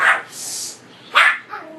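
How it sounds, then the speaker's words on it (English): Dogs bark in a few short, loud, yelping bursts close by, with a hissy gap between them and no voices. "Somehow the dogs don't like that."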